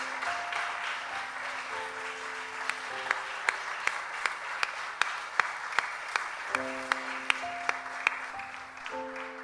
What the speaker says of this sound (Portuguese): forte aplauso para o Senhor,